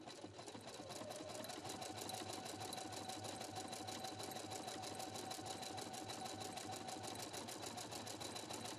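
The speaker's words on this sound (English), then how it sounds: "Begin sewing at the bottom of the buttonhole." Husqvarna Viking Platinum Plus sewing machine stitching a buttonhole, a fast, even needle clatter running steadily and closely for several seconds, quiet overall and alone.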